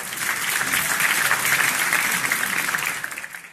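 An audience at an acoustic concert gives loud, sustained applause to welcome a performer to the stage; the clapping is dense and steady, then thins out toward the end.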